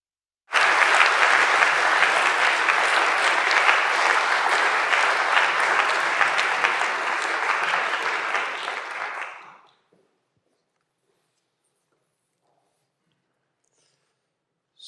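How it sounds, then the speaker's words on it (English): An audience at an ambassador's lecture applauding to welcome a foreign minister as guest speaker, a loud, full burst of clapping that holds steady for about nine seconds, then fades quickly into silence. "ask the audience to welcome our guest speaker of today with a warm applause"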